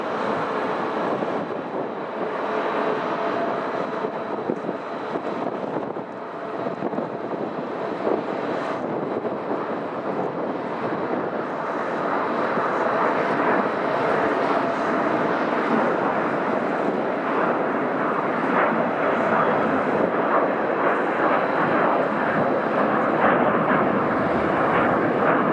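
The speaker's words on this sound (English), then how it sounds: "Private jet." A private jet passes at Manchester Airport, a sustained broad engine roar that builds slightly and holds, heard from a car park amid wind noise on the microphone.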